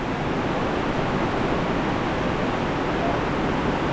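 A waterfall by a river roars as a dense, even hiss of falling water, loud and close, with no pauses or changes from start to finish.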